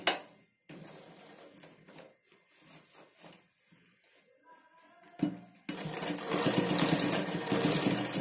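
Fabric is handled with soft rustles and clicks before a sewing machine starts up and runs steadily, loud and close, stitching a one-inch folded hem.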